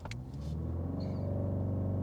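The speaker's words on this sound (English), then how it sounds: "Let's put it into Sport Plus and see how quick this accelerates" A BMW 330i xDrive in Sport Plus mode accelerates on a wintry road, its engine rising from a low rumble into a steady, building drone heard from inside the cabin, loud and continuous with no talking.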